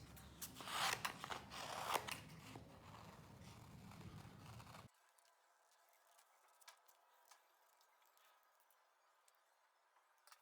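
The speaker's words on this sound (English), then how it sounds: "So at that point, we can go ahead and cut this out." Scissors cut a paper shoe sole pattern, crisp close snips and crunching paper for about five seconds, after which only faint rustles remain.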